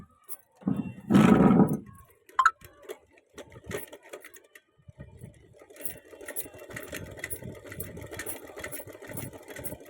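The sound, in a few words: sewing machine running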